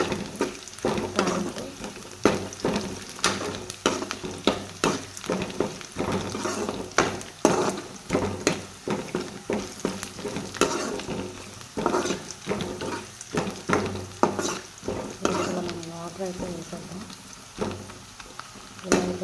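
Upma ingredients fry and get stirred in a pan, with steady sizzling under repeated scraping spoon strokes against the metal that carry on for the whole stretch at close range.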